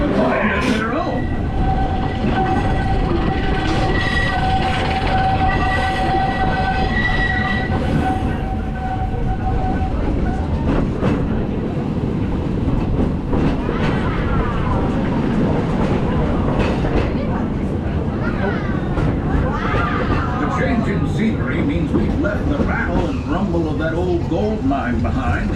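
A theme park mine train ride at Big Thunder Mountain rumbles and clatters loudly on its track, wheels squealing in long metallic tones, with a continuous roar and voices mixed in.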